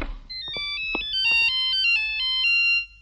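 A melodic phone ringtone chimes in a Tamil comedy movie scene, loud and close. Its bright electronic tones step up and down in a rapid tune for about two and a half seconds, then stop abruptly.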